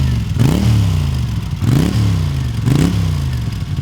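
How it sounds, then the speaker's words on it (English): A 1982 Honda GL500 Silverwing motorcycle's exhaust revs loudly up and down three times in a steady rhythm, each blip rising and settling back to a throaty idle, close by with no talk. "one of my favorite things about the GL500 is the exhaust note."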